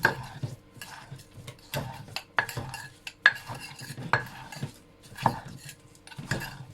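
A utensil mixes a fresh fermented-pork mixture in a bowl while cooking: repeated close clinks, knocks and scrapes against the bowl come in an uneven rhythm, with no talking.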